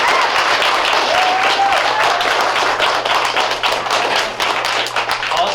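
Sustained applause from a school audience fills a room at a Battle of the Books event, steady dense clapping throughout with a slight easing near the end, no voices over it.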